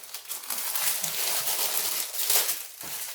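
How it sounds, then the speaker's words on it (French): Plastic packaging crinkles and crackles continuously while a canvas is unwrapped at close range, with irregular rustling bursts and no speech. "Le bruit de plastique."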